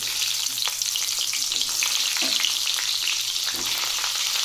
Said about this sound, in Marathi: तेल गरम झालं त्यामध्ये आपण जिरे मोहरी टाकून घेऊ आणि त्यामध्ये ही वांगी सोडू